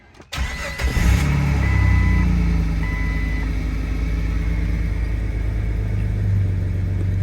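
A Jeep Cherokee XJ engine cranks briefly and catches, then settles into a steady, loud, close rumbling idle that continues with no talk over it.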